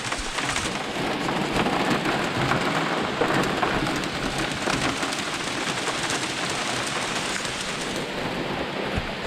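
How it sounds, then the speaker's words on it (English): Steady rain shower falling through a forest, drumming on leaves and likely an umbrella overhead, dense and continuous throughout, with a faint low rumble of thunder underneath and no voices. "Here comes that rain I was talking about."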